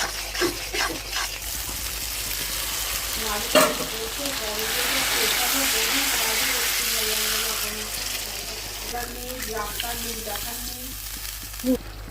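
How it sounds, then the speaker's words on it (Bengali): Nigella seeds (kalo jeere) tempering in hot oil for a fish curry: a loud, sustained close sizzle and spatter with stirring, rising in the middle, with faint background voices. "দেব কালো জিরে ফোড়ন।"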